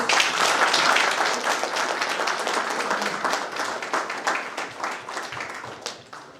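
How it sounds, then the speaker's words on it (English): An audience at a school in-house training session breaks into sustained applause, dense and steady at first, then gradually thinning and fading toward the end. "request everyone to give a big round of applause"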